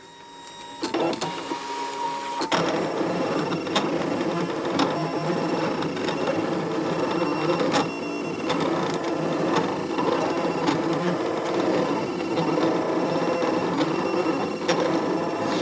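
A Brother ScanNCut cutting machine slices felt and fabric backed with freezer paper, giving a steady whirring motor hum with buzzy carriage movement. It starts after a couple of sharp clicks and runs continuously, close up, with no speech.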